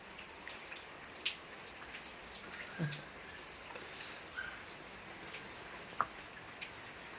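Rain falls during a wet morning. A soft, steady hiss carries scattered faint drips and occasional sharper drops landing nearby, with no voices.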